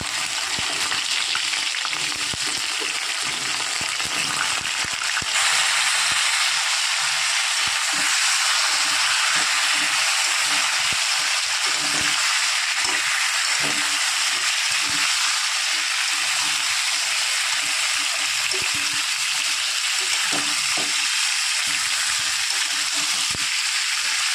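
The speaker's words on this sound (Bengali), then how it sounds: "এবার দিয়ে দেবো আলু আর কাঠি কচি একসাথে ভেজে দেবো" Potatoes and young taro stems fry together in hot oil in a pan, giving a loud, steady sizzle and hiss that runs unbroken throughout, with no voices.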